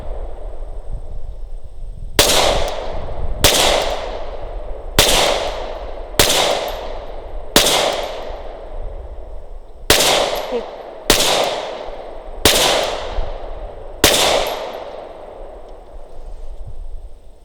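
Nine sharp gunshots from a Glock 17 Gen 5 pistol at a steel popper target, spaced roughly a second apart in two quick strings, each a loud crack with a ringing decay, no talk.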